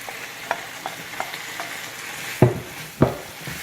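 Fried paneer cubes being stirred in a pan for paneer khurchan, with a low sizzle of frying and a few sharp spatula scrapes and clacks, two louder knocks near the end.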